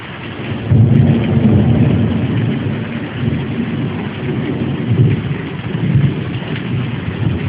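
A summer thunderstorm rolls with deep, rumbling thunder swelling near the start and again later, over a constant wash of heavy rain hitting surfaces, loud and close with no talk.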